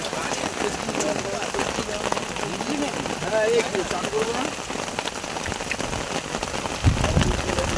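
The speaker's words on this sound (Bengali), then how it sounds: "পুরো গুমোটের পর বৃষ্টি চালু হয়ে গেছে" Steady rain falls over a fishing pond where anglers sit under umbrellas, a dense continuous patter close by with a louder thump of drops near the end; someone talks over it.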